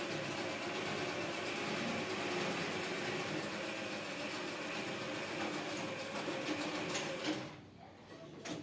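A sewing machine stitches a churidar neckline with a continuous rapid mechanical whir that runs almost the whole time and then drops away near the end.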